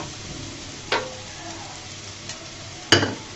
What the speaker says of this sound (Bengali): দিয়ে আমি একটু নেড়ে চেড়ে দিব